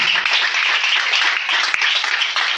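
A church congregation applauding and cheering for the Lord, steady dense clapping with mixed shouts, loud and close and continuing without pause.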